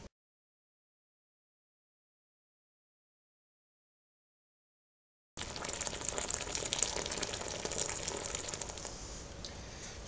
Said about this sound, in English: mash out 6 litres of water at about 97 degrees. We're at that now, so I can just add the 6 litres.